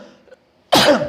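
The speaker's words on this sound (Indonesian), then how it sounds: "sorry teman-teman, saya batuk." A single sharp cough bursts out close to the microphone after a brief quiet pause, following a moment of soft talk.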